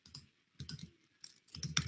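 Keys tapped on a computer keyboard while entering a curl localhost command for an NGINX server, three short bursts of close, light clicking separated by brief pauses.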